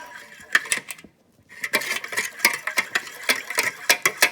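Milk being mixed into cornmeal batter in a bowl, heard as rhythmic clinking and scraping strokes of a utensil against the bowl, close and fairly loud, with a brief pause early on.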